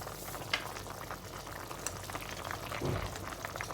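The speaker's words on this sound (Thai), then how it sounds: "นี่ค่ะทุกคนน้ำก็เริ่มเดือด" Water for a mushroom and pork belly curry comes to a boil in a pot, a continuous soft bubbling and gurgling, quiet and close, with a small clink near the end.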